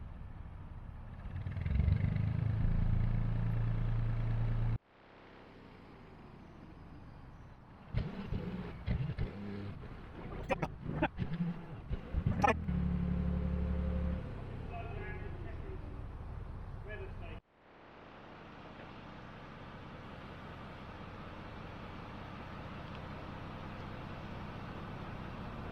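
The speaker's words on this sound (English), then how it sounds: "Plumes of smoke from an engine that hasn't gone anywhere for a couple of years." An old Lister marine diesel engine on a boat, long unused and smoking, runs with a steady low mechanical drone, broken by a short gap and some clattering, then settles into a continuous hum.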